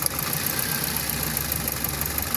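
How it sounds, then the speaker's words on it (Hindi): A car engine idling with a misfire, steady mid-pitched running with a rough, vibrating knock throughout, close and continuous with no talk. "अब जो है ना इंजन वाइब्रेट कर रहा है"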